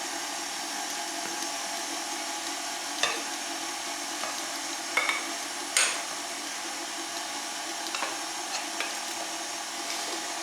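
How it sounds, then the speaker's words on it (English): An electric mixer running at its lowest speed works through pumpkin bundt cake batter with a steady, even whirr, broken by a few light clicks and taps against the bowl. "So mixer at the lowest speed."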